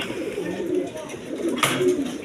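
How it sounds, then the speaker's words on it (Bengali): Big-sized pigeons at a pigeon sale coo in soft, low, throaty rolls that overlap steadily, with a faint sharper sound briefly cutting in near the end. "একদম বিগ সাইজের বিগ সাইজের কবুতর আছে"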